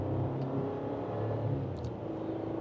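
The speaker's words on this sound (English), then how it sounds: "So with a minor acceleration, here we go." A 2026 Chevrolet Colorado Trail Boss crew cab truck, in low range gear, accelerates gently with a steady engine hum and whir, heard from inside at moderate loudness.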